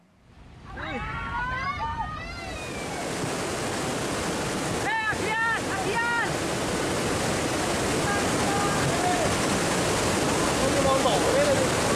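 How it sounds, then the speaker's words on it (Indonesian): A cold lava flood (lahar) from Mount Semeru surges down the Besuk Sat river in Lumajang, East Java, as a loud, steady rushing roar that fills the whole stretch, with shouting voices over it early and midway. "Petambang dan sopir truk berlarian menyelamatkan diri dari terjangan banjir lahar Gunung Semeru, Lumajang, Jawa Timur."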